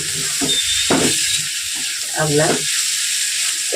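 Chicken marinated with tomato sauce, chilli sauce, ginger and garlic sizzles in a pan with prawns for mixed fried rice, a steady hiss running beneath a person talking.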